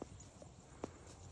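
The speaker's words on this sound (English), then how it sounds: "That's a horse, Red." Horse hooves clip-clop faintly on the ground in a quiet outdoor setting, with just a couple of soft, isolated steps.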